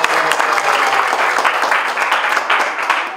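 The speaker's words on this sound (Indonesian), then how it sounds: "tepuk tangan" Students in a classroom break into applause: dense, steady clapping from many hands that stays loud and even for its whole length.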